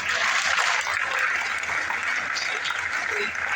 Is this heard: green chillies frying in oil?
no